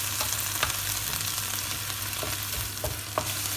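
Swiss chard and chicken ham cook in a pan with half a glass of water, giving a steady soft sizzle and bubbling with occasional faint stirring clicks. It is quiet and even, with no talking.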